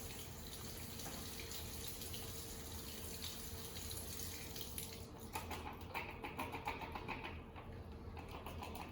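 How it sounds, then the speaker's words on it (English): A cup of blueberries rinsed under a running kitchen tap, a steady faint hiss of flowing water that turns splashier and more broken in the second half as the berries are moved about. "I'm gonna take them and just give them a quick rinse off."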